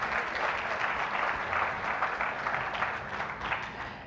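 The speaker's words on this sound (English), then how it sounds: "please give him a round of applause" A congregation at a community service applauds a musical guest, a sustained, even wash of many hands clapping at moderate distance, with no voices heard over it.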